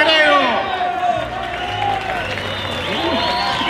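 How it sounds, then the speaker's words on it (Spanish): Crowd applauding and cheering at a fight camp event, sustained clapping and shouts mixed with voices and whoops throughout. "un aplauso para Grego"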